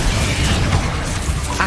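An Incendio fire spell cast in Hogwarts Legacy produces a brief, loud, dense rushing whoosh of flame that fills the whole moment with steady broadband roar.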